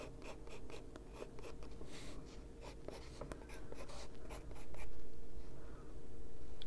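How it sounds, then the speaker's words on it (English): Colored pencil scratching on paper sprayed with fixative while an Afghan hound is colored in, steady close strokes in a continuous rhythm with faint background hum. "So if you hear the pencil making a different noise,"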